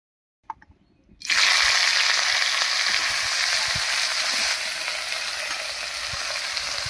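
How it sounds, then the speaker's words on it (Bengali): Brinjal slices dropped into hot mustard oil left over from frying fish, a loud steady sizzle bursting on after a brief clatter and holding strong throughout, easing slightly toward the end. "এবারে মাছ ভাজার এই তেলের মধ্যে বেগুনটাও ভেজে নেব হালকা করে।"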